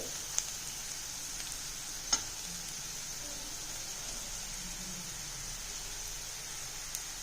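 Oil sizzles steadily in a hot pan as spices are tempered for sweet potato masala, with a few sharp pops and crackles standing out over the continuous frying hiss.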